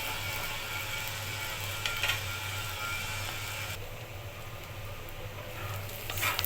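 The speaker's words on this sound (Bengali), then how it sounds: "পেঁয়াজটাকে ভালো করে হালকা ব্রাউন করে ভেজে নেব।" Onions fry slowly in a pan toward light brown, a soft, steady background sizzle with a low mechanical hum and a few faint clicks, no speech.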